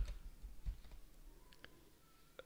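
Soft clicking keystrokes on a computer keyboard while typing a command, a few scattered taps close by and faint, without talk.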